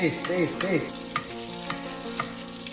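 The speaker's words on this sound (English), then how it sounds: "Garlic, thyme, lots of butter, and baste." A pork chop sizzles loudly in a pan as garlic, thyme and plenty of butter are basted over it, with spoon clinks and scraping over the constant frying; a voice is heard briefly at the start.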